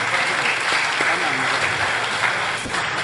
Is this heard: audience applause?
yes